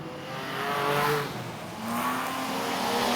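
Race cars at Gympie Speedway, including car 43, a green Commodore, roar past nearby with engines rising and falling in two swelling passes, a touch of tire noise, no one talking.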